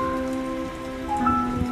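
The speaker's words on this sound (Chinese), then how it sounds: "我反而觉得下雨是一个礼物" Rain falls in a steady, continuous patter, heard briefly beneath soft, sustained musical tones, with no voices.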